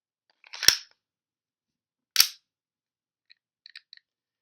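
A WE G17 airsoft gas pistol fires two sharp, close cracks a second and a half apart, then gives a few faint clicks as it seems to run dry.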